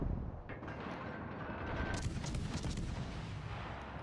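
Naval gunfire from the American destroyer USS Monaghan in World of Warships: several quick booming shots in a burst over a steady engine and water rumble, close and loud, with no voices.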